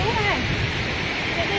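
A waterfall near Chiang Mai, a loud continuous rushing wash of falling water with a person talking over it.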